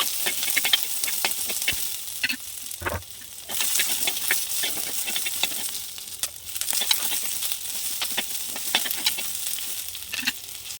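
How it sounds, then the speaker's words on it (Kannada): Oil sizzles and crackles steadily in a hot pan as tempering spices fry, with quick popping bursts throughout, loud and close, no talking. "ಈಗ ಒಂದು ಬಾಣಲಿ ಇಟ್ಬಿಟ್ಟು ಒಗ್ಗರಣೆ ಹಾಕ್ಕೊತಾ ಇದ್ದೀನಿ"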